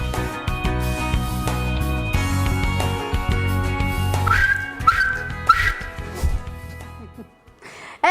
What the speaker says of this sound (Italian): Questo era il triplice fischio finale